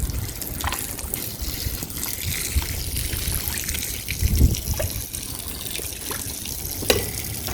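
Water runs steadily from an opened tap, a continuous splashing trickle with a few faint knocks and clicks in the background.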